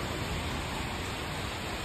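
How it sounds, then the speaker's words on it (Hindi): Heavy rain pouring down during a storm at a roadside dhaba, a dense, even roar of water that fills the whole stretch without pause. "बारिश बहुत ज्यादा तेज हो चुकी है"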